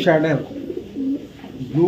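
Blue racing pigeons cooing close by in a loft, low throaty coos repeating through the moment with a voice speaking over them.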